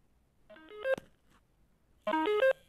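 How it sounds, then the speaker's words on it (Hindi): Two short bursts of a bright electronic ringtone melody from a Pebble Cosmos Engage smartwatch, separated by a pause of quiet, each a quick run of beeping tones close up. "वाइब्रेट एंड रिंग करेगा आपका स्मार्ट वॉच"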